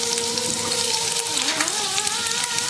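Chopped garlic hits hot oil in a pan with cumin seeds and sizzles loudly in a dense, continuous crackle, with faint clinks in the background.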